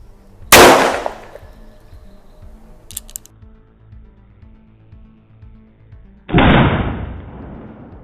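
A homemade Thai break-action pistol fires two loud, sharp shots several seconds apart, each a sudden crack with a short decaying tail, and a faint metallic click is heard between them.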